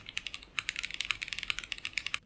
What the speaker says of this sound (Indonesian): Coba dengerin suara keyboard yang ini.